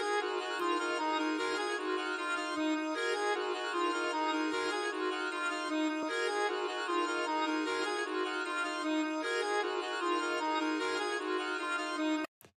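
A pitched-up, halftime sample beat made in FL Studio plays loud and continuous, with a steady dense harmonic texture and faint periodic accents, then stops abruptly near the end.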